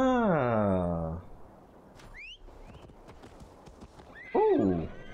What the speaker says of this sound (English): Oh, we can summon a horse.